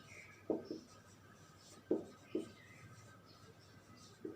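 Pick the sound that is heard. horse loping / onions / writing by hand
writing by hand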